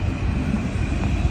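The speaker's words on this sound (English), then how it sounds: "another tram going by" A tram passes by outdoors with a continuous low rolling rumble and faint high whine, moderately loud and steady, with no talk.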